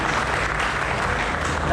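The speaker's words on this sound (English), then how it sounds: "I think we owe and round of applause for the organizers for that wonderful" An audience at the opening ceremony of Maker Faire 2019 applauds the organizers, a dense, even burst of clapping from a sizable crowd that holds steady throughout.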